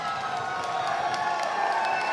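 A steady roar of crowd cheering fills an MMA event arena for the winning bantamweight fighter, loud and continuous with a few sharp claps poking through.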